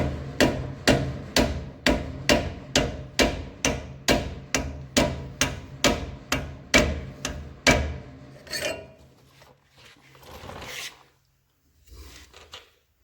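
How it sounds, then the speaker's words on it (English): A trailer spindle seal being tapped into place with a makeshift driver: about fifteen sharp, evenly spaced metallic knocks over eight seconds, close and loud, followed by quieter scraping and handling noises. "Take the makeshift driver, just kind of give it some good easy taps."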